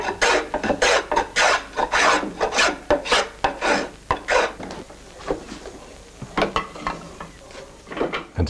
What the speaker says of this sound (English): the cooper hollows out the inner side of each clamped stave, end to end